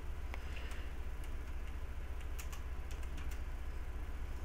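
Quiet, steady typing on a computer keyboard during a Minecraft session, a scatter of soft key clicks over a faint constant hiss, with no talk.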